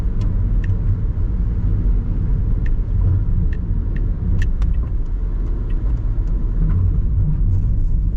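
Cars drive along a road in Macau during a typhoon, making a loud, continuous low rumble of tyres and engines with faint light rattles on top and no talking.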